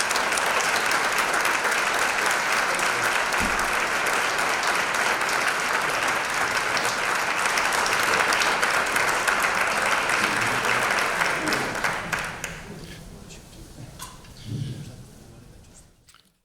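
Loud, sustained applause from a crowd fills most of the clip, then thins out and fades to scattered claps near the end.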